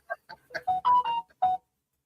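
An incoming-message notification chimes from a phone as a short run of bright, melodic tones, several quick blips followed by longer notes, close and clear against silence.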